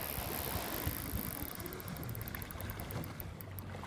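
A fishing boat reversing while drift casting for snapper, a continuous low engine rumble mixed with wind and water noise, steady and fairly close throughout, with no one speaking.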